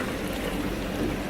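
A creek near an abandoned Soviet mine flows in a steady, close rushing burble of water with no other sounds over it.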